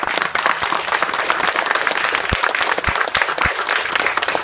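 Crowd applause for Jack Moore at a Sea Cadets gathering, steady dense clapping throughout with a few sharper, nearer individual claps standing out.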